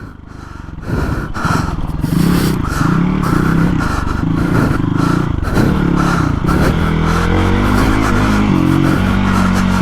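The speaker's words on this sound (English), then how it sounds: "now how it'll just pick up when you just drop the throttle a little" A Hero XPulse 230 motorcycle engine with a big bore build picks up on the throttle, a loud, close, continuous engine drone with rising pulsing tones and wind rush. No speech is heard.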